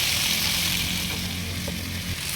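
Fried cauliflower and potato stir-frying in a sugared, cooked-down spice paste for a Bengali fish curry, with a steady bright sizzle throughout and faint scraping stirs underneath, with no talking.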